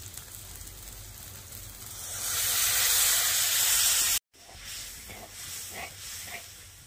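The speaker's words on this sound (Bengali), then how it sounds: "তেল ছেড়ে গেছে, এবারে জল দিয়ে দিচ্ছি।" Water poured into a hot pan of sizzling oil and spices bursts into a loud, rising hiss of steam lasting a few seconds, then drops off after a brief cut to a quieter, bubbling simmer.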